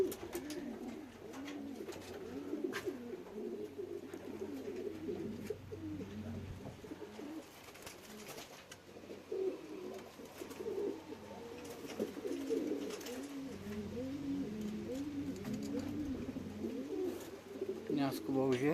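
Racing pigeons cooing at the loft after a long-distance race, a steady overlapping chorus of soft low coos with some wingbeats, heard alongside someone talking quietly nearby.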